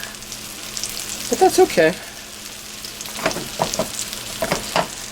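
Hamburgers fry in oil in a skillet, a close, steady sizzle running throughout beneath a man's brief speech.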